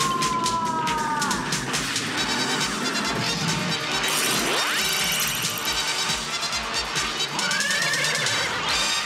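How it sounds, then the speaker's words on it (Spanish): A cartoon horse neighs in Latin Spanish She-Ra animation, two shrill whinnies at start and end framing a crash and a rising siren-like swoop in the middle, with no talking. "Caballo en el camino."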